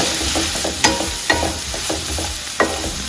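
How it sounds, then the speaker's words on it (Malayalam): Onions frying in a pan for a Kerala-style egg roast, stirred with a spoon, steady loud sizzle with a few sharp scrapes of the utensil against the pan, close up and with no talking. "നന്നായിട്ട് ഇളക്കി കൊടുക്കുക."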